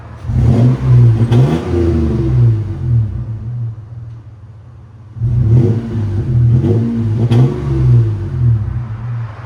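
Toyota 4Runner 3rd-gen 3.4L V6 with a Flowmaster exhaust revving close by, two quick bursts of throaty rising engine roar separated by a lower idle rumble.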